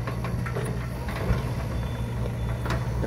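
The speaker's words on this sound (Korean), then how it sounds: "엔진 소리도 굉장히 조용해요." A Yanmar VIO55 compact excavator engine runs steadily during slope work, a quiet, continuous low hum with a few faint mechanical clicks and knocks over it, fairly close and unbroken.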